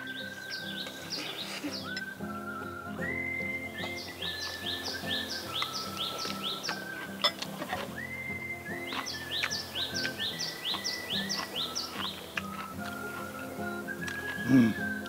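Birds sing steadily throughout at a mountain farm in Hwacheon, South Korea, with repeated bright whistled phrases and chirps layered over one another against a constant background.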